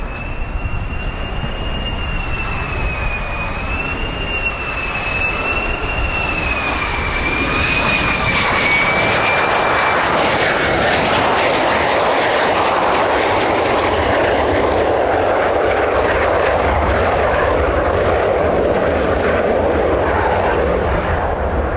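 F-35 fighter jets fly at RAF Lakenheath with a loud, continuous engine roar. A high whine wavers and fades over the first half, then a dense, rushing blast fills the rest, with no voices.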